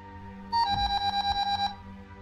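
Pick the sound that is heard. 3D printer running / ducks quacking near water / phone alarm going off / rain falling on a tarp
phone alarm going off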